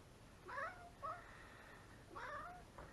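A cat gives a few soft, quiet meows, one around the first half-second, a short chirp after, then another pair near the end, with nobody talking.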